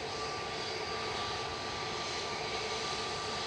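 A departing airliner at Manchester Airport, bound for Alicante, produces a steady engine roar with a faint high whine, sustained and even across the whole stretch without voices.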